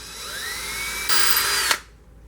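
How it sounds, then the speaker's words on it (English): A power drill bores a hole into a wooden rocking chair part with a whining motor hum that rises in pitch, grows louder as the bit bites, then cuts off abruptly, leaving faint room noise. "I'm actually going to put another drill hole"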